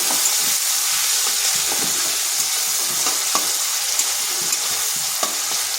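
Salted onion paste frying in a pan, a loud, steady hiss and sizzle close by, broken by light stirring scrapes now and then, with no speech.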